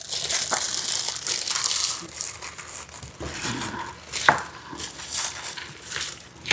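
Spinach pie filling with butter and pine nuts being mixed by hand, a steady close-up crinkling, crunching churn with a few sharper soft knocks, continuous and fairly loud throughout.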